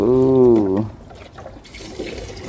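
A toy water gun sprays water at a man during outdoor play with water balloons; a short, harmonic voice calls out first, then a soft, steady spraying hiss runs to the end.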